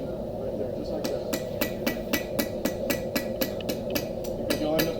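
Steady hammer blows on metal, about a dozen evenly spaced strikes, ring out close and loud over a constant background hum, with a voice talking faintly underneath.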